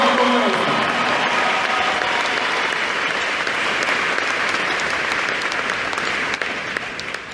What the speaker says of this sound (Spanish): De manera que merecen un aplauso de santanderianos.